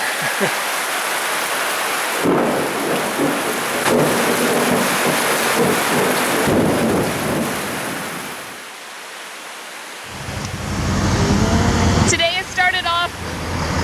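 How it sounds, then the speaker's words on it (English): Heavy tropical rain in Borneo hisses steadily with wind and road noise, swelling and dropping in waves; a deep thunder rumble rolls underneath near the end. "this tremendous downpour that is accompanied with lightning and thunder"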